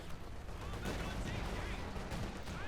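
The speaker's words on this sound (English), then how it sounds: "Puma opening fire with extra armor-piercing rounds" Tank guns and cannon fire in the World War II strategy game Company of Heroes 2, including a Puma armored car firing armor-piercing rounds, make a dense run of overlapping blasts and rumbling impacts, loud and continuous.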